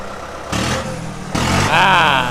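A Kubota MU5501 farm tractor fitted with a stock turbo column exhaust idles, then revs up in stronger bursts at close range, with someone talking over the engine.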